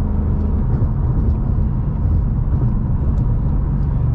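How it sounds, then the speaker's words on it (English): Ford Mustang Bullitt V8 idling with a steady low grumble that stays loud, close and unbroken throughout, with no talk over it. "you're idling, you can hear it grumble like in a certain way"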